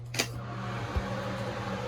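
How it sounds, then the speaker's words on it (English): A bathroom ventilation fan runs with a constant low hum and a steady airy whir, faint and unbroken, with a couple of small soft knocks along the way. "The only annoying thing about it is that the fan."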